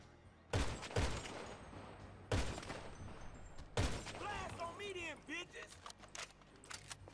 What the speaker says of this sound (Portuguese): Essa arma é muito barulhenta